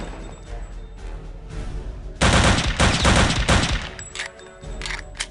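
A weapon fires in Return to Castle Wolfenstein: a loud cluster of rapid shots bursts out midway and lasts about two seconds, then a few scattered shots follow over low game ambience.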